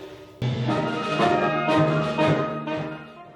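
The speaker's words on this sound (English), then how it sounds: "What you just heard is the flute, a complex technical instrument." A flute plays a short melodic passage in a school band room, sustained breathy tones shifting in pitch, close and moderately loud with no talking.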